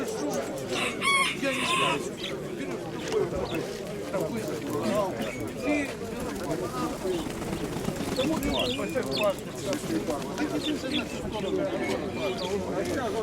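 Chickens clucking and a rooster crowing at a busy outdoor poultry fair in Dnipro, heard close and steady under continuous conversation between buyers and sellers.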